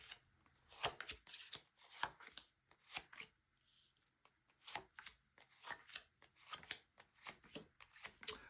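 Tarot cards are shuffled quietly and repeatedly, a series of soft papery riffles and taps in an irregular rhythm, close up with no talking.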